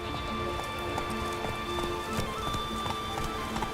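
Hooves pound in a fast, continuous gallop as Roach, the horse in the video game The Witcher 3, runs at speed, loud and close, over a dense rushing wash of game ambience.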